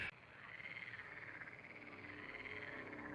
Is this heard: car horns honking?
no